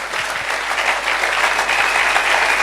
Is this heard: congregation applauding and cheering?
yes